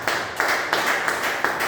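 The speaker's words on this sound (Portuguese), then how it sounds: "Aplauda ao Senhor." A church congregation claps in unison, five or six sharp, evenly spaced claps in a steady rhythm, fairly close and clear.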